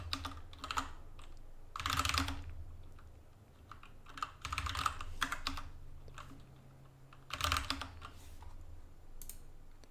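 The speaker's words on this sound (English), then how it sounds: "let's type in some details here" Close, quiet tapping on a computer keyboard comes in short irregular bursts of keystrokes separated by brief pauses, with no talking.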